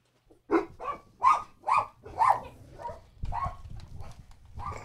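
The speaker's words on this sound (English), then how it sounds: "That's dog for get to the chopper." A dog barks in a quick run of five or six sharp, fairly loud yelps, followed by rougher, lower-pitched barking over a rumbling background.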